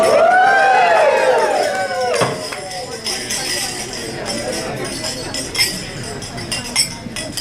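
Glasses clink with bright, ringing chimes at a wedding toast, several overlapping at first and then fading into crowd murmur and voices.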